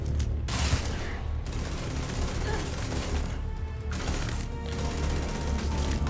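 Gunfire in the video game Starfield, dense rapid bursts of shots and impacts packed tightly together, loud and close, with brief gaps between volleys.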